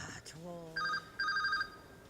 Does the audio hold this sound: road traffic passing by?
no